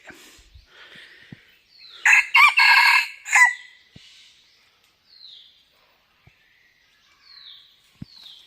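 A rooster crows once, loud and fairly close, a drawn-out call of about two seconds, with faint bird chirps and quiet outdoor ambience around it.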